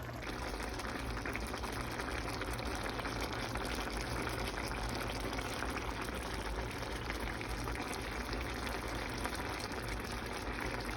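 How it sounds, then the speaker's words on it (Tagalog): Pork pochero with potatoes and green beans boiling in a covered pot, a steady unbroken bubbling hiss that stays even and constant throughout, with no talking. "Pakuluin natin to at least 10 minutes"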